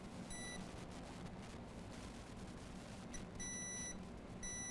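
A multimeter in diode mode beeps while testing a shorted capacitor on a Dell Inspiron 7373 laptop board. Steady high electronic tones sound in several bursts over a constant background hiss.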